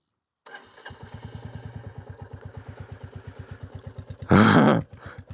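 A Royal Enfield motorcycle engine starts and settles into a steady, loud thumping idle with evenly spaced pulses, then gives one brief, roaring blip of the throttle before dropping back to idle.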